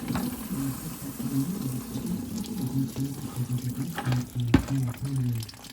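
Coolant draining from the front hoses of a Porsche 997 into a bucket underneath: a steady, close pouring splash with a gurgling, tap-like rush that carries on throughout.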